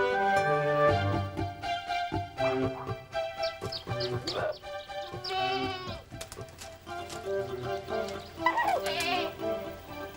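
Penned goats bleating in a remote mountain setting on the island of La Palma, several overlapping wavering calls from near and farther animals, continuous over ten seconds with no talk.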